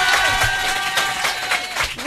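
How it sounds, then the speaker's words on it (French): A studio audience at a French radio-TV show applauds steadily, a dense wash of clapping from a crowd filling the whole moment. "applaudissez Eva, ça va la détendre"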